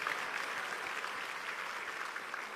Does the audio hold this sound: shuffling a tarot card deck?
no